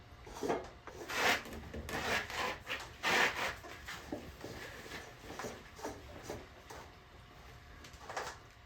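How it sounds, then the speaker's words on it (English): A plastic nut is threaded onto a Pentair TR pool filter drain plug, giving a series of close, soft scraping and rubbing strokes in uneven rhythm with quiet pauses between them. "I can put my O-ring down on the outside, and I can thread my nut on."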